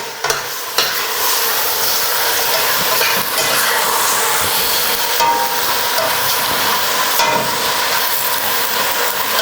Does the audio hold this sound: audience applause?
no